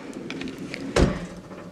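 A dresser drawer in a college dorm room slides and knocks shut in a single brief wooden thump, preceded by faint rustling.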